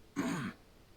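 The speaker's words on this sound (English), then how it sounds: "a cough." A single short cough, a quick throaty burst lasting about half a second, close and fairly quiet, followed by silence.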